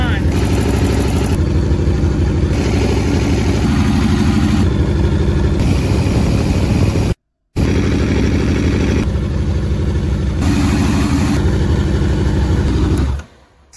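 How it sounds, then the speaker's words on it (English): An Aprilia RSV4 motorcycle engine runs loud and close, revving in repeated surges with one brief cutout midway, then dropping off at the end. "So those revs were sick."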